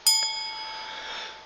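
Phone ringing: a single bright, bell-like chime strikes sharply, then its tone rings on and slowly fades, heard alone and fairly close.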